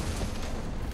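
Weapon fire in the vehicle combat game Crossout, a dense rumbling burst of shots that fills the whole second at moderate loudness, no voices.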